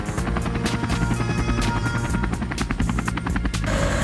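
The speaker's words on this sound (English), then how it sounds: "Police helicopter." A police helicopter's rotor chops in a fast, even pulse with a steady engine hum, close and continuous from start to finish.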